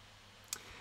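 A single quiet mouse click sounds while operating the Daedalus Cardano wallet on a computer, one short tick against a faint background hum.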